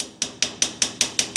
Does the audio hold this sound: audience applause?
no